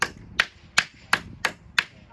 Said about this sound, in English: All these nails needed to be beat in.